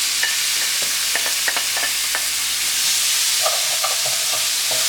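A cooked mixture sizzles loudly as it is stirred back into a hot pan with olive oil, a constant close frying hiss broken by scraping taps of the utensil.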